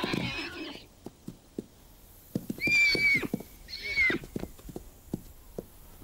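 Several horses, including a ten-year-old stallion approaching a herd, neighing in loud, shrill whinnies; one call at the start, then two long, bright whinnies in the middle, with scattered hoof knocks and thuds between them.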